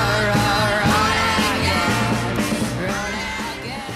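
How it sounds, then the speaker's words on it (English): A French doo-wop recording plays, with vocal harmonies over a steady rhythmic backing of bass, drums and instruments. It is full and continuous, at moderate loudness, with no speech over it. "That's the sound of France attempting to do doo-wop."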